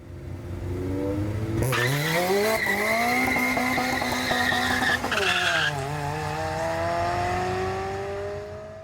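Supercharged Honda car driving hard around a race track, engine note climbing and shifting through gears with loud tire squeal and skidding as it corners, sustained and close.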